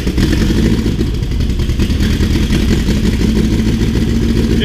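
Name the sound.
backyard-built turbo engine starting and running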